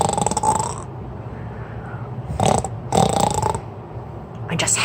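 A voice imitates snoring during a bedtime story reading, with two rasping, breathy snore-like bursts separated by quieter gaps, close and fairly loud.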